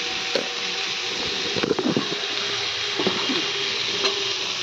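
Pumpkin chorchori with a little sugar sizzles steadily in a pan while a spatula stirs it, scraping and tapping in short irregular strokes, close and clear.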